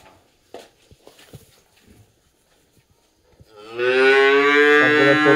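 Cattle at a farm in Bogura: a few soft footsteps and shuffles, then a loud, close, drawn-out cow moo that fills the last seconds.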